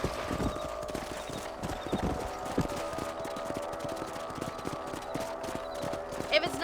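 Horses trot on a ranch property in the Western video game Red Dead Redemption, their hooves beating a steady, even rhythm under game music and ambience, with voices talking over them.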